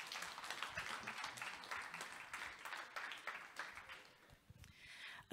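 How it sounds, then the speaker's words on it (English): Conference audience applauding, a faint, steady patter of many hands clapping that thins briefly toward the end. "Third time, a round of applause,"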